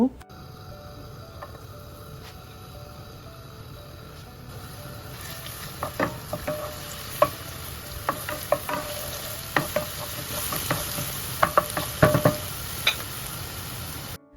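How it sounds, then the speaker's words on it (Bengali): Garlic fries in hot oil in a pan, a soft continuous sizzle that grows busier partway through, dotted with sharp clicks and scrapes of stirring, up close with no talk. "প্রথমে একটি প্যানে তেল গরম করে নিলাম এরপর রসুন দিয়ে হালকা বেছে নেব"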